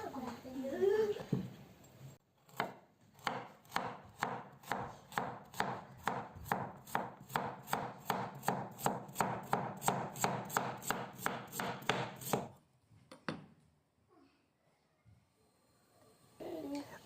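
A knife slicing a carrot into rounds on a cutting board, a long run of about twenty-five crisp, evenly spaced chops, close and clear, then stopping before a few quieter taps.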